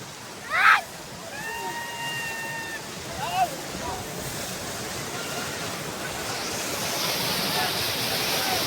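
Water rushing at Nimba Devi dam: a broad, steady roar that continues throughout and grows slightly louder near the end, while a voice calls out briefly early on over the flow.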